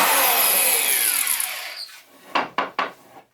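A biscuit joiner cuts slots in wood, first a sustained high whirring cut that spins down, then three short, sharp bursts of the blade close by.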